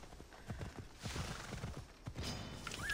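A horse gallops in the Greek open-world game Assassin's Creed Odyssey, its hooves beating in a rapid, steady rhythm at moderate level, with a brief whinny near the end.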